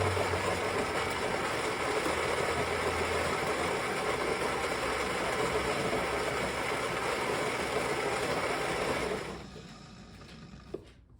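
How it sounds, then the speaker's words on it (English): A Philips LatteGo fully automatic coffee maker grinding beans, a loud continuous close-up grinding roar that holds steady for about nine seconds, then cuts off and leaves quiet room sound with one small click. "So it will start with grinding the coffee."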